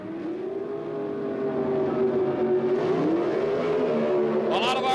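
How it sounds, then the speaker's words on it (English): Pro stock drag cars, a Ford Fairmont and a Chevrolet, launch together off the line at high RPM, a loud sustained engine roar rising in pitch, with a sharp burst near the end. "A lot of RPM, and they leave the line together."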